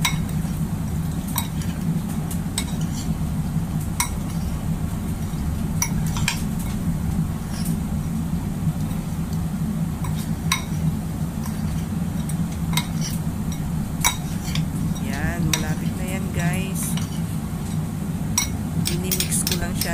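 A utensil mixes a shrimp marinade of salt and chicken powder in a dish, giving repeated light clinks and scraping stirs in an irregular rhythm over a soft continuous background.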